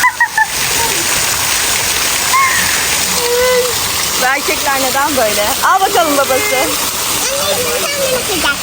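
Water splashes and pours from a waterfall shower at a children's aquapark, a continuous rushing spray heard under close talking voices and playful vocal sounds.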